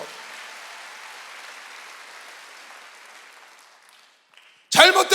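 A church congregation at a Sunday worship service claps in a steady wash of applause that gradually fades out, and then loud speech breaks in abruptly.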